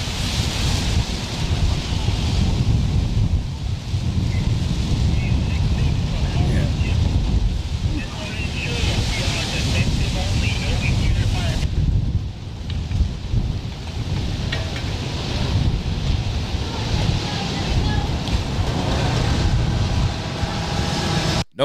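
Strong wind during a California wildfire, a loud, steady roar buffeting the microphone for the whole stretch, with low rumbling gusts and no clear talking.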